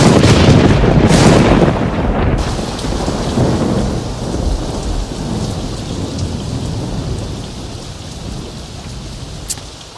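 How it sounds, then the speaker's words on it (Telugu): Heavy rain pours steadily on an outdoor football practice ground, with a deep rumble of thunder at the start that fades into a dense, constant hiss of rainfall. "ఏమిటో ఈ వర్షం, మ్యాచ్ ప్రాక్టీస్ చేసుకోవడానికి లేకుండా."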